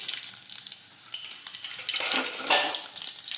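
Dried garlic, mustard seeds and cumin dropped into hot oil for a Gujarati baingan bharta, giving a soft crackling sizzle with scattered utensil clinks that swells louder near the end.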